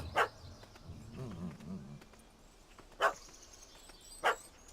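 Dog barks in The Witcher 3: Hearts of Stone, three short sharp yaps spaced across a quiet outdoor game scene, with a low murmur of voices in between.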